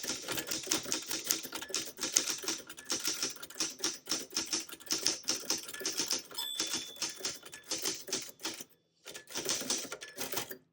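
Rapid keystrokes clatter on a 1968 Super Sterling manual typewriter, a dense, close, steady run of sharp mechanical clicks with a brief pause near the end before typing resumes.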